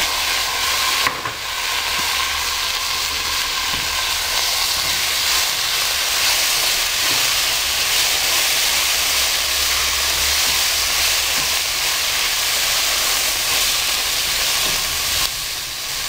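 Chopped vegetables and chili are tipped into a pan of browned rice for Mexican red rice with poblano, setting off a loud, continuous sizzle and hiss that runs steadily from start to finish without speech.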